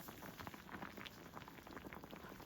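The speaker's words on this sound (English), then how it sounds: "When the jjigae is bubbling" Doenjang jjigae, a soybean paste soup, bubbling in a pot, with soft, quick, irregular pops and a faint simmering fizz heard close with no voices.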